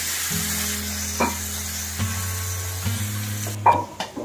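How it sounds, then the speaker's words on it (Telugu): Chopped tomatoes and curry leaves fry with chicken in a pan, a loud, close sizzle with a low hum underneath and a few scraping stirs toward the end, no speech. "వీటంతటిని కలిసేలాగా ఒకసారి ఫ్రై చేద్దాం"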